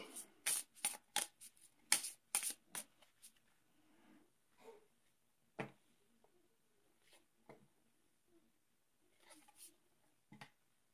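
Small hard tiles from the board game Ghost Stories clatter and shuffle in a flurry of quick clicks, then a few scattered taps follow more quietly.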